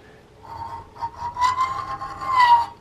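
A small hand saw cutting a clamped metal entry pipe on a Hawken rifle kit, light rasping strokes close up, a few uneven passes growing louder toward the end.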